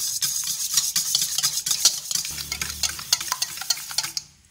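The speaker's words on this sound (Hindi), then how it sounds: "अंडे मैंने फेंट लिए हैं।" Eggs are whisked briskly in a bowl for a pasta batter, a rapid run of clicking, scraping strokes close up with no voices, stopping abruptly near the end.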